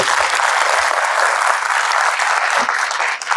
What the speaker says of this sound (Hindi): ढंग से ताली बजा दो इसको.